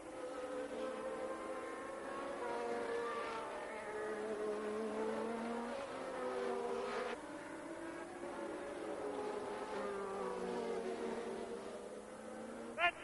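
Formula 1 race cars from the turbocharged era pass along the track one after another, engines droning with rising and falling pitch sweeps, fairly steady and continuous, with a brief louder burst at the end.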